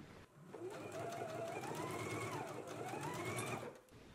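A sewing machine runs a steady basting stitch through fabric on pinned pants, a close, quick mechanical whir that starts and stops cleanly, heard alone.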